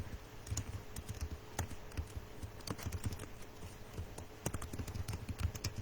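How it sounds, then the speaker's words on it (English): Rapid, uneven keystrokes on a computer keyboard as a link is typed into a chat, close and fairly quiet, with no talking over the clicking. "I'll also type it here in the chat"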